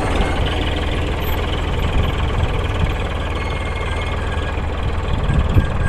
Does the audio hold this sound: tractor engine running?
yes